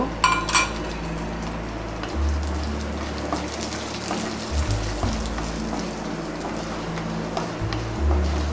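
Snake gourd and moong dal sauté in a pan for a diet poriyal, a soft continuous sizzle with light utensil clinks and a low steady hum underneath.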